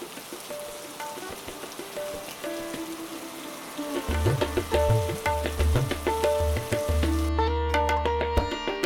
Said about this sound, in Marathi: तर आता आम्ही जसे निघालो तसा पाऊस चालू झाला.